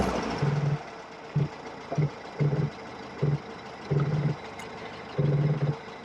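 Austin Healey Sprite MK4 with its 1275 engine revving in neutral, a series of short throttle blips rising and falling over a steady idle, some quick and a few held longer, close by.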